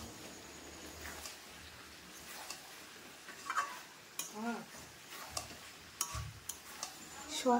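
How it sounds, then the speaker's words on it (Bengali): Chicken and chopped cucumber are stir-fried together in a pan, giving a quiet sizzle broken by irregular ticking spatula taps and scrapes, close and fairly soft. "শসা দেবার পর মিনিট 2 সময় নিয়ে চিকেনের সঙ্গে কষিয়ে নিয়েছি।"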